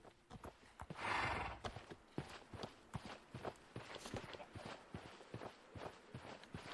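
A horse walks at a summer campsite, its hooves clip-clopping in a steady uneven rhythm, close and faint, with a brief louder rustle or snort early on.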